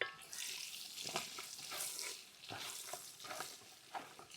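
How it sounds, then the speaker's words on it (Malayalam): Garlic and green chilies fry in oil for a Kerala-style sardine pickle, giving a faint, soft sizzle. Light stirring scrapes come at irregular intervals, with no voices. "ഇനി നമുക്ക് വെളുത്തുള്ളി ഇട്ട് കൊടുക്കാം. പച്ചമുളക് ഇട്ട് കൊടുക്കാം."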